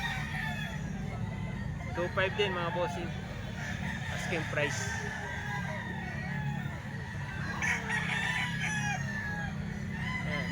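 Tall sweater gamecock crowing at a Philippine rooster sale, several crows and clucks from nearby birds with someone talking over them.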